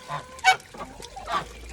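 A goose honks several times in quick, uneven calls at close range, with one sharp louder honk near the start and others fainter around it, in an outdoor pen area with ducks nearby.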